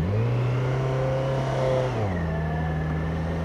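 A motorcycle engine running hot, with coolant near 100 degrees, revs steadily up close, then its pitch drops and settles lower partway through. No voices.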